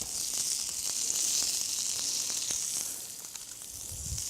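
Minced lamb seasoned with cooked peppers, garlic, cumin, paprika, salt and pepper frying in a pan, a steady close sizzle and hiss with faint crackles and no talking.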